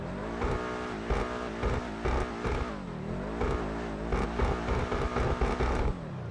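The Schlagen GT sports car in GTA 5 Online roars close up, its engine revving repeatedly through rising and falling pitch sweeps with no one talking.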